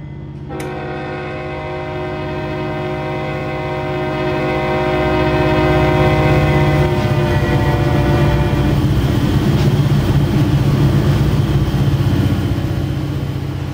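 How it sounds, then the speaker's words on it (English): A heavy freight train rolls past, its steady engine rumble and rail noise swelling as it nears while a multi-tone horn holds a long sustained chord for several seconds; nothing else in the loud, close scene, with no talk. "I can really tell you've got a heavy train on you"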